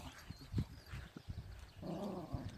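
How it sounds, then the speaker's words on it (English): A female dog vocalizes with low grumbling, throaty sounds and a longer growly whine toward the end, close and quiet, amid some scuffling thumps. "Yeah, she's a dog."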